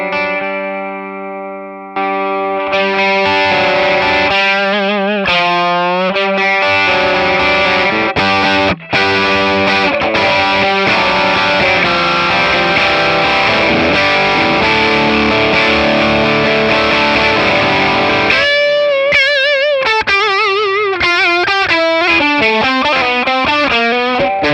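Electric guitar played through a Kingsley Minstrel version 3 overdrive pedal, giving a driven, sustained tone. Chords and melodic lines ring out steadily and loud for the whole stretch, with a brief cut near the middle and busier single-note runs toward the end.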